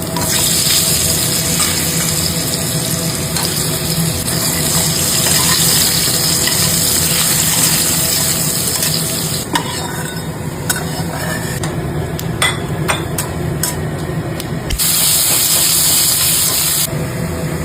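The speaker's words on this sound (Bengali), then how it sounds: "এবারে আলুটাকে ভেজে নেবো" Potatoes fry in oil in a pan after fish, a loud, continuous close sizzle and hiss with scattered clicks and scrapes of stirring in the later part.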